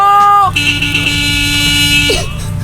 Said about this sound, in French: C'est quoi ce klaxon de merde? C'est un klaxon qui est mort.